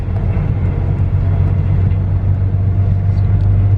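An airport shuttle bus runs with a steady, loud low engine rumble and drone, continuous and close, with no talk over it.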